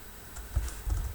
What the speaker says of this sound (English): let's look at what happens whenever I type in something here